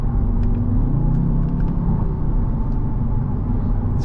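A 2023 Audi TTS with a dual-clutch transmission drives along, its engine giving a steady, fairly loud low drone and rumble from inside the cabin, with no one talking.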